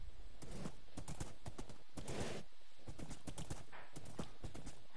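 Minecraft horses trotting with steady, rapid clip-clop hoofbeats throughout, a neigh or whinny rising briefly near the middle; loud and close, with no talking.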